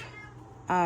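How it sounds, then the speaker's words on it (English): A pet cat meows loudly near the end, a single drawn-out whining call rising suddenly out of quiet room tone. "that's my cat in the background, y'all, whining."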